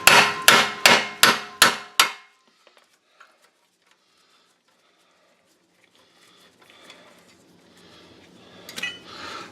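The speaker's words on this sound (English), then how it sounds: "That's held in by a 30 Torx set screw, and I use an impact driver to get that out." Impact driver hammering out a 30 Torx set screw from a rear brake rotor on a 2008 Mercedes-Benz CLS 550: five sharp, evenly spaced metallic blows up close, then quiet with faint clinks and handling noise.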